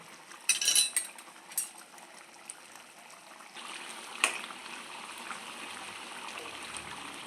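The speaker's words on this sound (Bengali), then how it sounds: "এই আলুটা পাত্রে তুলে রাখছি" A spoon clinks against a metal pot and dish as boiled potatoes are lifted out of chicken biryani gravy. A few sharp clatters come early, then a softer scrape and a low, steady kitchen hiss.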